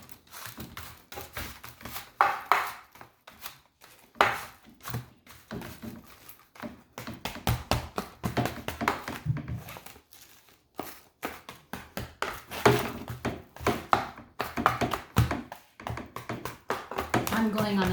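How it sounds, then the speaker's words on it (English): A big spatula presses and flattens a sea salt caramel matcha green tea rice krispies mixture, making repeated soft taps and thunks in an irregular rhythm, mostly under continuous talking. "So the trick to this is you have to flatten it out with a big spatula. And look at how fast I flatten this out."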